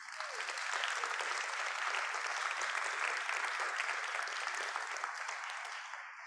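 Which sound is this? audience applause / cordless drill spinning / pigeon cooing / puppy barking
audience applause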